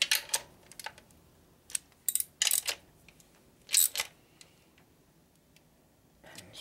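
A torque wrench tightening motor bolts on a stroker Shovelhead big-bore engine for a Harley FL build, giving a handful of sharp, separate clicks and ticks in irregular bursts against a quiet background.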